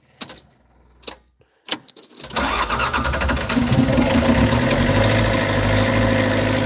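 A hard-starting diesel engine with glow plugs and a frozen ignition, started with a throttle knob: a few clicks first, then it cranks and catches into a loud, steady run close by.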